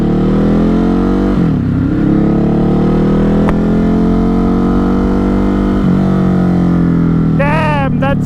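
A Ducati Hypermotard 950 RVE is ridden at speed, its engine and exhaust roaring loud and close in a continuous drone. The pitch climbs and drops as it accelerates, and a voice speaks near the end.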